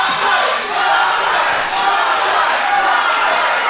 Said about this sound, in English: Been hearing the crowd back and forth